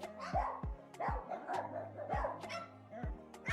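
A parrot mimics a dog, giving a string of yappy barks at an irregular pace, close and moderately loud, with steady low hum behind.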